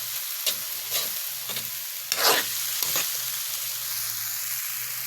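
Beef skin adobo with chili sizzles steadily in a pan, with a few scraping stirs of the utensil at the start and a louder stir midway, close and continuous.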